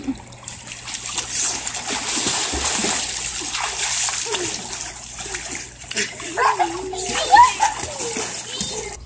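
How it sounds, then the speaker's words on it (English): Water splashing and sloshing steadily throughout, with children's voices and shouts mixed in over the splashes. "You're splashing me, Ben."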